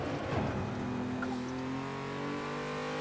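A time-attack race car on the Detroit Belle Isle street circuit shifts up into fourth and back down into third, its engine note climbing and dropping through the gear changes, loud and close.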